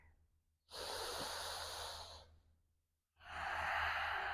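Two long, airy breaths during a yoga twist, close to the microphone, separated by a short quiet gap, each a soft hissing rush of air at an even volume.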